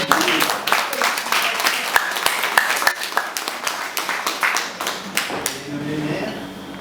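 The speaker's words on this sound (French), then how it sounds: "Est-ce qu'on peut acclamer pour elle?" Crowd applause for a newly appointed woman mayor at a pilgrimage gathering of the Mbongui community at Saint Benoît Boundji: dense, steady clapping from many hands lasting several seconds, tapering off at the end, with voices talking over it.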